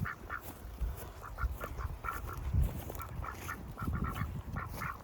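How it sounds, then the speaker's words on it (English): Several ducks quack and chatter at a small pond that is refilling, their calls coming in irregular bursts over a steady outdoor background, fairly close and with no one speaking. "I'll just bring the ducks to have a bit of a swim."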